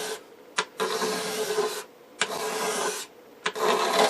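A hand scraper strips old lacquer off an RCA Radiola 60 radio cabinet. Loud, close, rasping strokes run in three long passes, each starting with a sharp catch and separated by brief pauses, with no talking.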